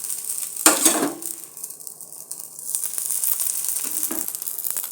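Dosa batter made from ration rice sizzles in oil on a hot pan, a burst of frying hiss near the start easing into a steady sizzle with a few faint utensil clinks.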